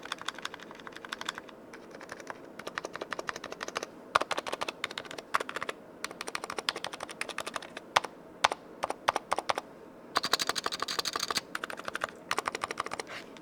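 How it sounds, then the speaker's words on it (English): Typing on a Razer mechanical keyboard fitted with optical linear switches, a steady run of close, fairly soft keystrokes with brief pauses and bursts of faster strokes throughout. "So this is the linear switch."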